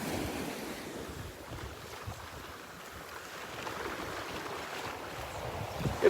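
Ocean surf washes onto the beach at Delnor-Wiggins on a morning walk, a continuous roar of waves mixed with gusting wind across the microphone, no voices.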